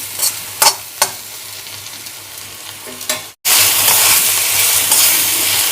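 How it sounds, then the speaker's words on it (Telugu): Pre-boiled spiny gourd (boda kakarakaya) frying in a pan, a few stirring clinks and scrapes over a low sizzle, then a sudden loud, dense hiss of oil that continues to the end. "మనం ముందే ఉడికించుకున్నాం కాబట్టి మనకి ఇది ఫ్రై అవ్వడానికి ఎక్కువ సమయం పట్టదండి"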